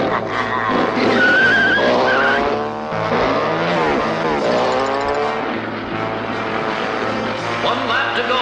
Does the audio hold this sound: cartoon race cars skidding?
yes